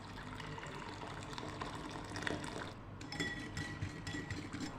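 Boiling water poured over sliced potatoes soaking with lemon, salt and vinegar in a home kitchen; a continuous splashing pour with faint clinks, low and steady, with no talking.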